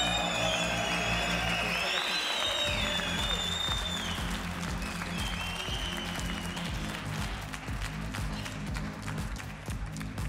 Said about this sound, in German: zeigen Sie unseren Boxern im Ring, dass Sie soweit sind. Mit Ihrem Applaus für Royce Sepp und Serge Michel.